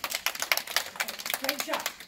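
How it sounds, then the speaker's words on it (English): A kindergarten class claps in a short, quiet burst of light, uneven hand claps, with small voices and talk mixed in. "Round of applause."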